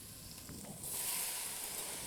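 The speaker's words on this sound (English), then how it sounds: "My fresh tomatoes, these go in next." Fresh tomatoes hit a hot pot for marinara sauce, and a quiet low crackle swells into a loud, steady sizzle and hiss that holds without any voices.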